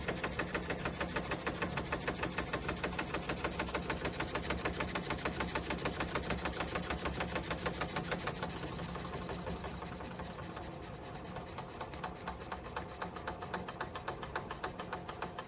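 An antique Marklin 4149/9 toy steam engine with a large flywheel runs steadily, a dense rapid chuffing and hiss that holds even, then softens slightly partway through while continuing alone.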